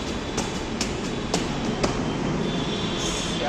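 Inside a moving metro train, a continuous loud rumble fills the car, with periodic clicks from the wheels over rail joints and no voices.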